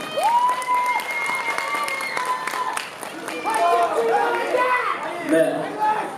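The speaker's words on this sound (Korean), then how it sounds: "박수 한번 주시기 바랍니다." Applause from a bodybuilding contest crowd rings out under loud, echoing announcements over a PA, with chatter and clapping blending throughout.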